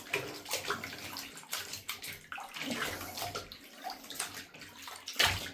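Water splashes and runs in a bathtub as dusty dolls are rinsed off, a close, uneven sloshing and gurgling stream.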